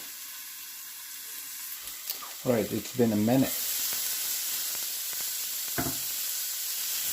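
Asparagus cooks covered in a pan, giving a steady, even sizzle and hiss of frying and steam throughout; someone speaks briefly partway through while the sizzling continues underneath.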